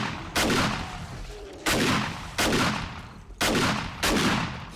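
Five loud gunshots from the player's gun in 7 Days to Die ring out at irregular intervals, each a sharp, close blast with a lingering echoing tail.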